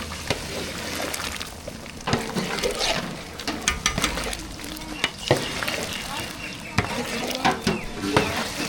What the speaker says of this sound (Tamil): மசாலாவெல்லாம் சேர்த்தாச்சு நல்லா கலந்து விட்டுக்கலாம்